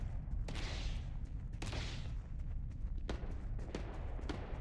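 Scattered gunfire in Starfield, a few sharp distant-sounding shots and hissing impacts spaced irregularly over a low ambient rumble.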